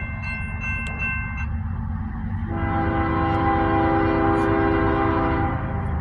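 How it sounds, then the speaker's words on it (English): A westbound Norfolk Southern freight train rolls past up close, its sustained multi-tone horn blaring loudly over the steady rumble and rattle of the cars, with no talking. "Here comes the westbound NS."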